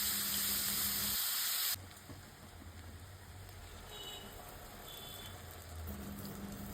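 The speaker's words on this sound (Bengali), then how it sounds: "এবার ওই তেলে তেজপাতা, জিরা, গোটা গরম মশলা ফোড়ন দিয়ে কিছু রসুনের কোয়া, পেঁয়াজ কুচি দিয়ে দেব।" Bay leaf, cumin, whole garam masala, garlic cloves and chopped onion frying in hot oil for chicken kosha, a steady soft sizzle and hiss that drops sharply in level after a louder opening burst, with no talking.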